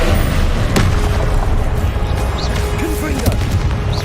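Spellcasting combat in Hogwarts Legacy, a disarming Expelliarmus spell amid continuous loud booming blasts and rumbling battle effects, with brief whooshing magic swirls layered on top.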